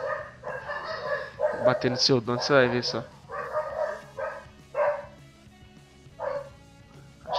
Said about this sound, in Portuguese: E a cachorra deu que latir agora.